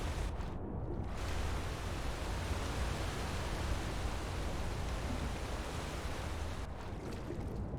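A rushing waterfall in Skyrim roars as a steady, dense wash of white noise that fills the whole stretch at a constant loud level, with no voices.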